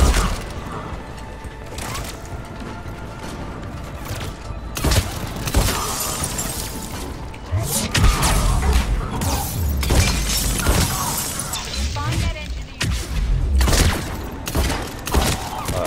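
A shotgun fires repeatedly in the Mass Effect 3 video game during an assault on Omega, with loud, booming blasts at irregular intervals amid dense, crackling battle noise and debris.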